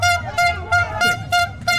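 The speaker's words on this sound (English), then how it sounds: "A person is blowing that air horn in my ear." Repeated loud air horn blasts, about five short honks in a steady rhythm, close by with crowd noise underneath.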